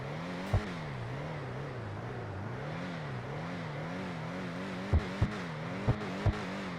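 A Karin Previon car engine in GTA 5 Online hums steadily with a wavering, rising and falling tone, like a revving idle, broken by a few sharp clicks or taps.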